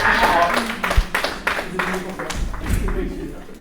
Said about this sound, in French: On applaudit Jade.